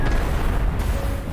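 A heavy, close boom rumbles briefly and dense in an Armored Core VI mech battle, a single blast that fills the moment before fading.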